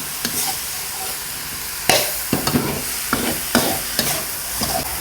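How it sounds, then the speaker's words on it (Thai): Chive dumpling filling seasoned with sugar and seasoning sauce is stir-fried in a pan, with a steady sizzle and sharp scraping strokes of a spatula at irregular intervals. No one speaks. "ไอ้น้ำตาลนะคะ ซอสปรุงรสค่ะ แล้วก็ผัดไปเรื่อยๆครับ"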